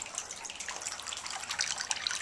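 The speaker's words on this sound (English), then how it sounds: "my water fountain, which sounds oh so tranquil and peaceful" A gentle garden fountain trickles steadily, light splashing and dripping water close by, soft and continuous with no voices.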